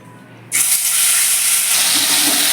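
Salt-and-turmeric-coated prawns hit hot mustard oil in a pan, setting off a sudden loud sizzle half a second in that holds steady and hissing without any talk.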